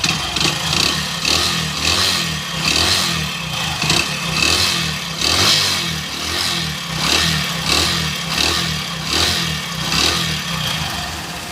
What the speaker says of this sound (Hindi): मैंने बाइक को स्टार्ट किया तो यहाँ पे आप इसका साउंड सुन सकते हो।